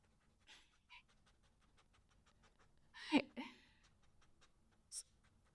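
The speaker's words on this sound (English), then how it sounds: "A little sniff ASMR for you, dog sniff" Quick, soft sniffing bursts from a dog close by, scattered over a quiet background, with one louder snuffle in the middle.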